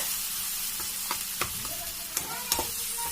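Vegetables stir-fried with soy sauce in a pan for fried rice: a constant close sizzle broken by repeated scraping strokes and clinks of a spatula against the metal.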